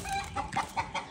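A fancy white hen clucks close by in a short burst of four or five quick, rhythmic clucks, with no talking.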